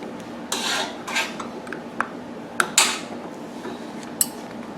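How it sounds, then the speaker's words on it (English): A small screwdriver or needle-nose pliers prying hubcaps off the wheels of an Echo Bearcat 3500, with close creaks and scraping rubs broken by a few sharp metallic clicks and pops. "you can take a small screwdriver or a pair of needle nose pliers and just pop the hubcaps out"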